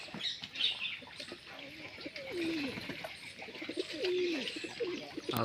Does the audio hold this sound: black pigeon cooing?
yes